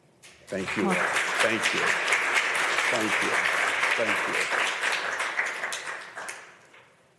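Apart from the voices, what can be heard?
rousing round of applause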